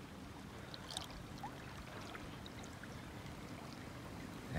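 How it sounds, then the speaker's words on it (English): Ocean waves breaking about 50 meters offshore beside overwater villas at a Maldives island resort, heard as a steady, soft wash of surf with faint trickling water nearby, continuous and fairly quiet throughout. "That's where the waves break."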